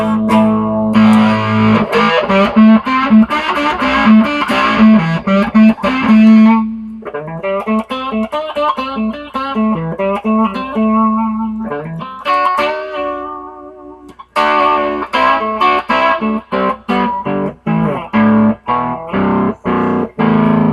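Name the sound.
electric guitar through germanium Fuzz Face pedal into Princeton amp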